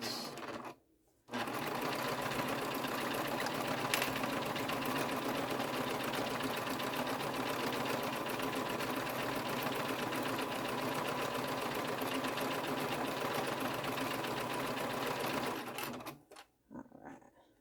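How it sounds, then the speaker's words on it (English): Sewing machine running steadily while back stitching fabric for a wristlet, a continuous fast mechanical whir after a short pause at the start, close and loud, stopping near the end with no talk. "I like to put my needle down so that when I stop, my material doesn't shift and everything still stays in line"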